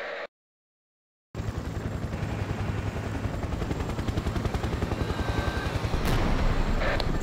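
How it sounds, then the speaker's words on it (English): In the game C&C Generals Zero Hour with a Cold War Crisis mod, an anti-tank helicopter fires a rapid, steady burst of gunfire over a rotor drone. The firing is loud and continuous after a brief silence. "Anti-tank helicopter."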